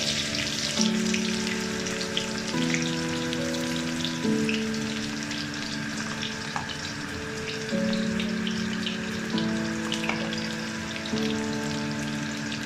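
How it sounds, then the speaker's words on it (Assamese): Onions sizzle and crackle steadily in hot oil with cumin seeds in a pulao pan, a dense close frying hiss running throughout, while a faint melodic tone line drifts in the background. "এতিয়া অলপমান পিঁয়াজ দি দিছোঁ, এই পিঁয়াজখিনি দি দিছোঁ"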